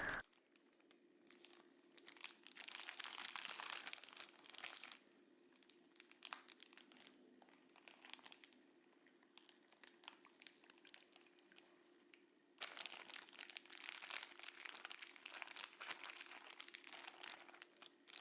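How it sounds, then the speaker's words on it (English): A large sealable plastic bag holding sea bass and miso soy marinade crinkles in close, quiet bursts of rustling and crumpling, separated by near-silent pauses. "Place the sea bass in a large sealable plastic bag and pour the marinade"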